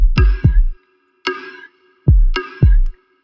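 Drums play alone, kick and snare hits in a steady pattern, the snare's bright wash swirling with a sweeping phaser tone.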